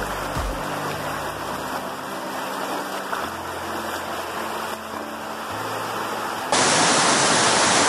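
A small waterfall on a rural river rushes with a steady broadband roar, close and continuous, the noise swelling louder near the end.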